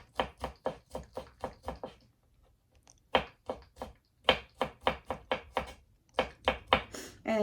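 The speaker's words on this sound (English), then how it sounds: "So I'm just lining them up, cutting them small. I can mince them up." A knife mincing garlic cloves on a cutting board makes rapid, evenly spaced knocks in bursts, close and crisp, with a short pause before the chopping resumes.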